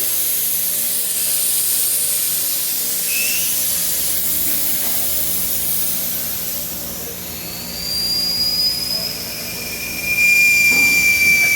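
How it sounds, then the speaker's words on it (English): Compressed air hisses steadily out of a tyre on a tire changer, a loud, broad jet-like rush that swells and intensifies toward the end. "And now we just let this air out."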